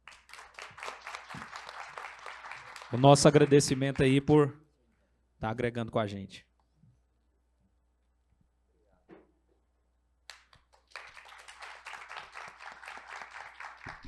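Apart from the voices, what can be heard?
audience applause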